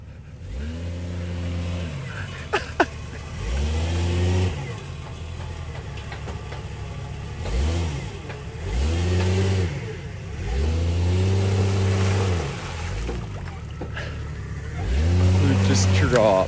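Lifted Ram pickup on 37-inch tires revving hard off-road as it noses into a deep pit, the engine surging and falling in repeated bursts of throttle with people talking between them.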